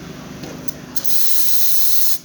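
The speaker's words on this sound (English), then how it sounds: "Let's test the steam." The steam wand of an Izzo Alex Duetto espresso machine, just given a full tune-up, bursts into a loud, steady hiss after a few short spurts, holding strong until it cuts off.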